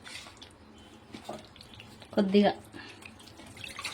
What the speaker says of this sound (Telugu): కొద్దిగా వాటర్ పోస్తూ